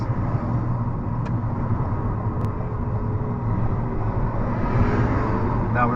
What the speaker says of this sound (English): Now everybody's stepping on the gas.